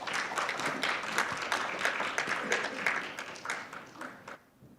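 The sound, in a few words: audience applause welcoming speakers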